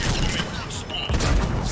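Dense gunfire from the video game Mass Effect 3: Legendary Edition, a continuous loud barrage of overlapping shots mixed with a voice talking.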